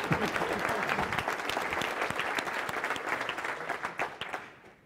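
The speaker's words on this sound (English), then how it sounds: "we need another round of applause for all the issues that was smashed yesterday at the hackathon" A conference audience at a tech festival applauds hackathon participants with a full round of clapping, many hands at once, loud and sustained before tapering off at the end.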